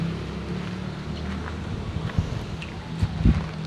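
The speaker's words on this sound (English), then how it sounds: "wind must be blowing some debris" Gusty wind sweeps around the outside of a house in the Philippines, a steady rushing bed with scattered scraping and clattering of loose debris, a few sharper knocks near the end, no voices.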